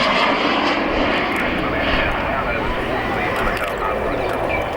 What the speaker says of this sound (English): the nozzles will be rotated forward to the braking stop to allow the Harrier to execute this very steep decelerating